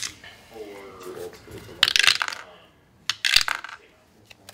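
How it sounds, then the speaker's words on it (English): Tiny dice rolling down through a homemade dice tower, two bursts of sharp clattering and tumbling clicks a second apart, close and loud, with faint talk between. "I got this sweet dice tower that I made."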